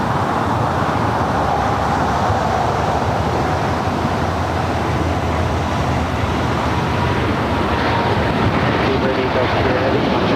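A heavy FedEx jet departs from LAX, a steady broad roar of jet engines filling the whole stretch at high level, with air traffic radio talk running over it.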